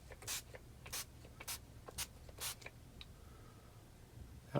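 Short hand-pumped spray bottle bursts misting water over a model railroad scenery area before grass is applied, about seven quick hisses spaced irregularly, close and fairly quiet with no talk.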